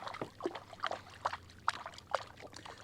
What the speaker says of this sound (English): it's rough hand paddling